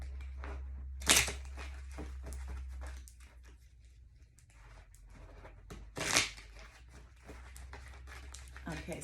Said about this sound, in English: And so let's go ahead and shuffle.